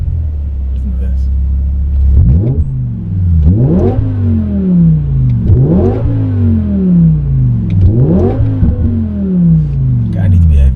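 A BMW 850i fitted with a V10 engine revs loud and close in three sharp bursts, each rising pitch climbing fast then falling away, over a steady rumbling idle.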